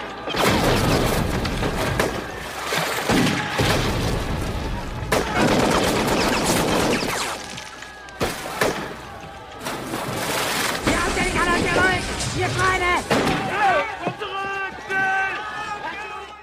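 Gunfire crackles through a chaotic World War I battle scene against German troops, with bursts of shots and booming hits amid shouting voices and a swelling music score.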